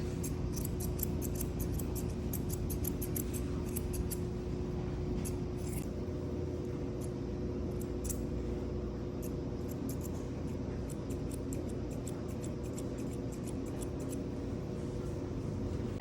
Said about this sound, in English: I'm gonna just snip it and then trim it into the cheek